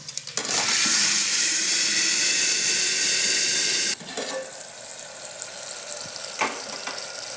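Loud, hissing sizzle of spices hitting hot oil, steady for a few seconds and then dropping to a softer crackle.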